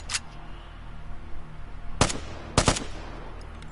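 AK rifle fired from a crouch in the video game Vigor: a short opening burst, then two sharp bursts a moment apart, loud and close over a low steady background hum.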